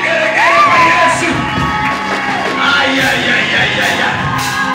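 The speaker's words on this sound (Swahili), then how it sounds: "Weka makofi na vigelegele kwa Yesu." Loud church congregation raising cheers, yells and high trilling ululation for Jesus, a dense crowd roar with voices shouting over it, though clear handclaps are hard to pick out.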